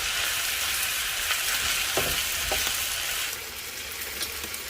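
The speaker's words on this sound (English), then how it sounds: "Continue to saute for another 5 minutes. I really want the tomatoes and jalapenos to get" Tomatoes and jalapeños sauté in a pan for a Mexican-style ranchero beef dish, a steady loud sizzle with a few soft stirring knocks, continuing without talk throughout.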